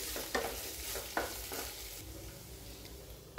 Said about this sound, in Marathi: आता यामध्ये हिरवी मिरची, लसूण, आलं, लाल मिरची, तमालपत्र आणि हा जो खडा मसाला आहे तो पण कांद्यामध्ये परतून घ्यायचा आहे